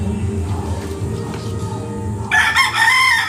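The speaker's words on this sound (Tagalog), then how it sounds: "May manok pa." A rooster crows loudly and close by in a village street, its call bursting in after a stretch of low background rumble and clucking fowl.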